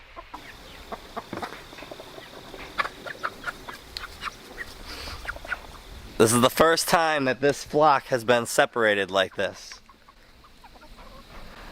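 Chickens in a split backyard flock give scattered soft clucks and short calls through the clip, with a person talking over them for several seconds in the middle.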